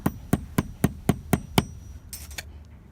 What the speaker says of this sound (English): Using a nail and a hammer,